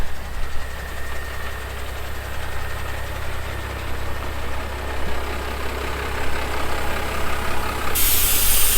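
A Unimog truck's diesel engine idles on a beach, a steady low rumbling drone held close and even for several seconds, with a brief hissy burst at the end and no speech.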